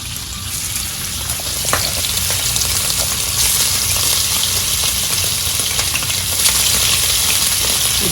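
Scallops sear in a hot pan, giving a loud, continuous, close sizzle with a few sharp crackles and spits running throughout.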